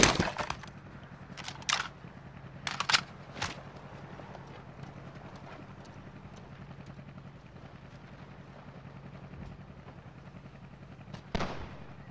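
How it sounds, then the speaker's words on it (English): Gunfire from many players in Call of Duty Warzone on Rebirth Island, scattered shots and bursts, some near and loud, others faint and distant, over a low steady background rumble. "There's a lot of people shooting around me."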